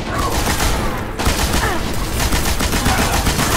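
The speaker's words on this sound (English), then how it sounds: "Where's the machine gun? Okay, here's the machine gun." Dense, continuous machine-gun fire in the video game Destiny rattles loudly throughout, mixed with other gunfire and game effects, with a voice talking faintly underneath.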